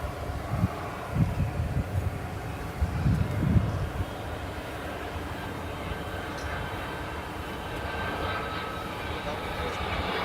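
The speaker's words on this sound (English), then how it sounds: "UPS flight 1301 from Atlanta, and this one's going to be another A300." A UPS Airbus A300 jet arriving at DFW airport at night rumbles as a moderate, steady engine drone with a faint whine, while people talk intermittently nearby.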